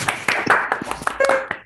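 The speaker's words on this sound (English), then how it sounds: "let's just unmute ourselves and give Moiya one last round of applause for her" A few people clapping over a Zoom call after a dissertation talk, sparse, separate hand claps with uneven rhythm, close and distinct rather than a blended crowd sound.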